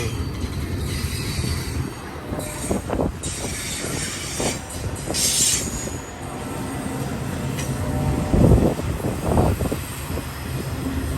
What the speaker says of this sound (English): Maintenance of way vehicle over there.